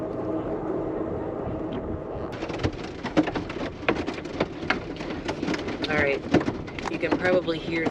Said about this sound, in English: probably hear the hail now hitting